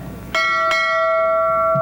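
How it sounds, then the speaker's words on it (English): Bell struck twice in quick succession during a 2001 high school stage production of South Pacific, each strike leaving a long, bright ringing tone that sustains loudly to the end. "Ring the bell again! Ring the bell again!"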